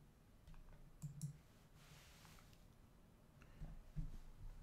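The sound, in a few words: computer mouse click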